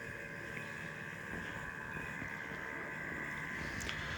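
A GPS robotic lawn mower cutting grass at night between sheds: a steady motor whine and whir that goes on without a break, at moderate distance, with faint wind noise and no talking.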